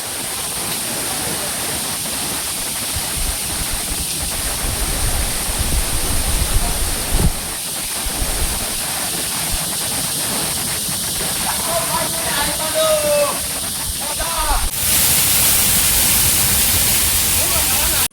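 A hidden waterfall in Assam rushes with a steady, loud broadband roar that fills the whole scene, while people talk over it and the noise swells a little near the end.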